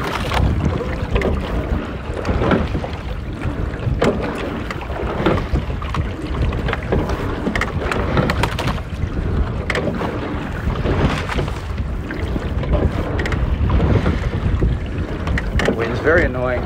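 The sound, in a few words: wind blowing over a rowing boat on water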